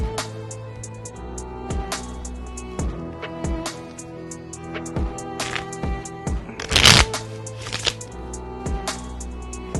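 Playing cards being shuffled give scattered snapping clicks and one louder crackling burst, close by, over a steady tonal background.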